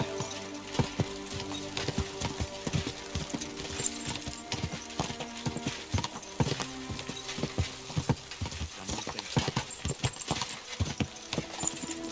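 Horse hooves clip-clop in a steady, brisk rhythm throughout, close and distinct, with no talking, from the video game Kingdom Come: Deliverance 2.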